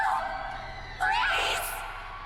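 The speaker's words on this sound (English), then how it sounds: "shouts of alarm and surprise ring out, a mirror to the horror creeping up in each of us." Startled shouts and yelps of alarm ring out inside a house, a sudden loud burst of several overlapping voices near the middle after a quieter stretch, then fading.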